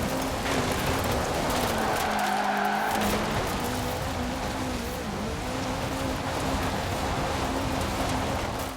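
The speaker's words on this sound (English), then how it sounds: "keep driving up and down here, drifting whenever possible, getting that multiplier to increase as much as you can" Tires squeal and skid as a car drifts back and forth along a road in Forza Horizon 4, with a steady engine roar and continuous screeching, loud and close throughout with no talking.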